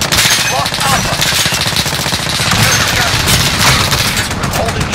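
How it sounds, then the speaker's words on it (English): Dense automatic gunfire and bursts rattle continuously in a Modern Warfare domination match, loud and close, with bangs layered throughout and game voice callouts heard over the shooting. "We're taking fire."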